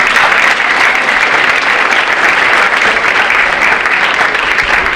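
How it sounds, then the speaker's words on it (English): Loud, steady applause fills a hall at a senior awards night, a dense continuous roar of many hands clapping at once for the full five seconds with no break. "So a big round of applause for our seniors."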